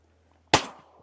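A single sharp shotgun blast at ducks during a waterfowl hunt cracks out loud and close, then decays quickly into quiet.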